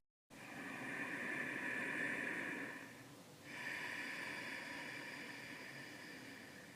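Ujjayi victorious breath, a long breathy inhale through closed lips with a throaty, ocean-like hiss, then a brief pause and a second steady breath, close and quiet with no talking.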